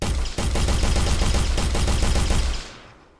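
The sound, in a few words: projectile shot fired in an Unreal Engine game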